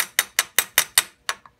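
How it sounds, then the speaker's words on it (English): A tiny hammer taps a part held in a vise on a Bridgeport milling machine, giving seven or eight sharp, evenly spaced metallic clicks, close and clear with no talking. "We're gonna need a tiny hammer. Give him a couple taps."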